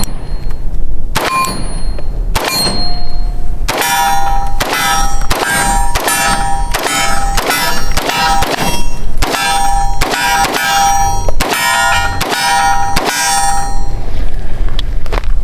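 A SIG pistol fired at steel targets: a steady string of a dozen or more loud shots, each followed by a bright metallic ping from the struck steel, with short pauses between groups.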